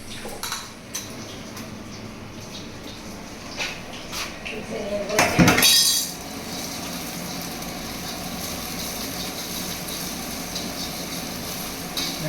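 Egg fried rice with double egg being stir-fried in a restaurant kitchen: metal clatter of a wok and utensils, with one loud scraping clang in the middle, over steady burner roar and kitchen noise, with people talking.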